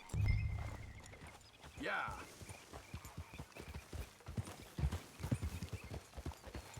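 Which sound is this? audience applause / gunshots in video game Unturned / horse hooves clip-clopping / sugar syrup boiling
horse hooves clip-clopping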